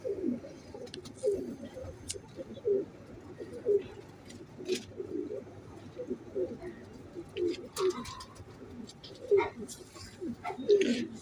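A male Teddy (golden) pigeon coos close by in soft, repeated low rolling phrases, with faint chirps and a voice talking at times underneath.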